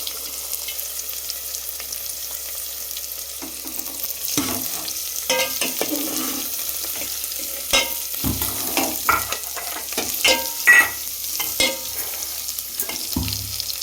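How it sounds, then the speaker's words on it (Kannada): Curry leaves and onion fry in oil after mustard seeds have popped, for a sprouted green gram curry; a steady sizzle runs throughout, and from midway irregular stirring scrapes and clinks come close and clear, with no talk. "ಕರಿಬೇವು ಮತ್ತು ಈರುಳ್ಳಿ ಹಾಕ್ಕೊಂಡು ಫ್ರೈ ಮಾಡ್ಕೊಳ್ಳೋಣ ಚೆನ್ನಾಗಿ."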